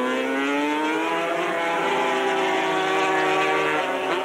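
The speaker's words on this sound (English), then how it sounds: "Mind you, determined motorcycle racers aren't averse to a bit of bumping and pushing, but Oldfield there wisely" 250cc racing motorcycles scream along a track during an Australian championship race, engines loud and sustained, with several overlapping high-pitched notes rising and shifting together.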